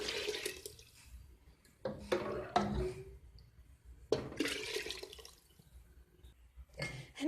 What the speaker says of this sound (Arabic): راهي رايحه دوكا تمرق بما سخون وتخليه يطيب